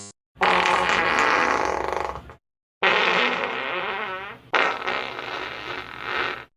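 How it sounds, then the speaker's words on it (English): A cartoonish farting sound effect from a VTuber's stream, three loud, drawn-out bursts with short silent gaps between them, the middle one bending into a wobbling, creaky flutter. "This is how the farting sound effect from Yuri_IO sounds like."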